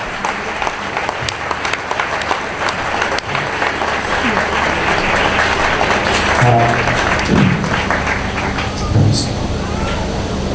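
A congregation applauds Jesus during an evening church service in Karachi, Pakistan, with sustained, loud clapping filling the room and crowd voices and murmurs mixed in beneath and among the claps.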